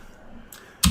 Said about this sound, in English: we simply key in that same IP address